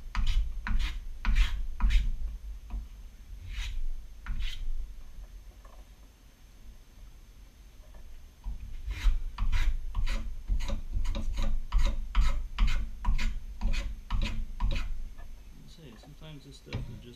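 A hand tool files and rasps a wooden foundry pattern for an angle plate casting, with repeated rough scraping strokes in bursts, a pause, then faster steady strokes, close and fairly loud.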